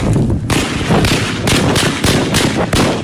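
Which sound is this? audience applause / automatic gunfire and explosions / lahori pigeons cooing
automatic gunfire and explosions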